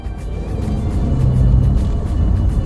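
A 2008 Mini Cooper cruises quietly, heard from inside the cabin as a steady low engine and road rumble that swells slightly and holds, with no voices.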